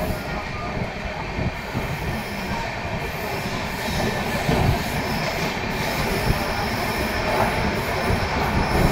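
A passing express train bound for Ernakulam rolls by on the Konkan line in a steady, loud rumble of wheels and carriages, with rhythmic rail clatter and faint squeals building toward the end.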